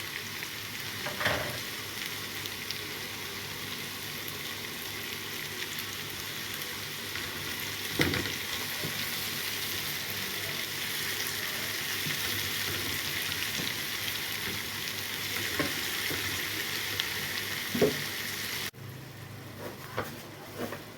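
Onion, garlic, peppers and tomatoes fry in a pan with a steady broadband sizzle, broken by a few sharp stirring scrapes and clicks; the hiss drops abruptly near the end, with no talk.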